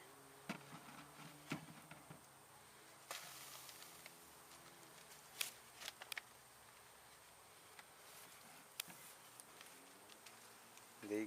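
Faint buzzing of bees drifting around during a hive removal in Weslaco, Texas, with scattered louder passes and occasional soft knocks in an otherwise quiet outdoor space.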